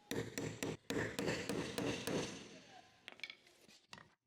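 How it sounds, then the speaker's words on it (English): A hammer taps a flathead screwdriver to loosen the fuel pump lock ring on a Jeep Wrangler JK fuel tank: sharp metallic taps in a quick, fairly regular rhythm, then a few sparser knocks near the end, close and clear. "Using the flathead screwdriver and hammer, remove the lock ring above the fuel pump assembly."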